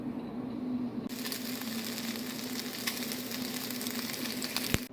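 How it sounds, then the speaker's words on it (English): Bacon sizzles and crackles steadily in a frying pan, a soft constant hiss with scattered pops that starts abruptly and continues close by without talk. "I'm going to go ahead and fry up some bacon so I can chop it up"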